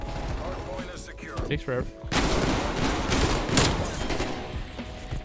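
Streetsweeper shotgun fired from the hip in Call of Duty Cold War, a loud dense volley of gunshots blending into continuous booming fire over game music, with a voice talking briefly.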